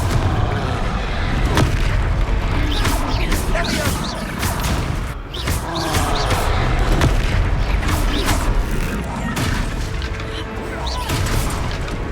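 A Confringo blasting spell going off during a troll fight in Hogwarts Legacy, with loud, dense booming blasts and crashing impacts that run almost without pause, heavy and close.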